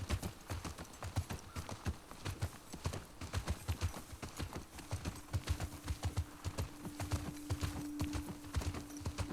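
Horse hooves clip-clop steadily at a walking pace in The Last of Us Part II, close and fairly even, with a faint low hum running underneath.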